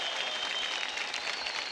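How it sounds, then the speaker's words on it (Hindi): Studio audience on a televised Indian dance competition bursts into dense, steady applause after a dance performance, loud and close throughout. "जोरदार तालियां हो जाए निकिताशा के लिए।"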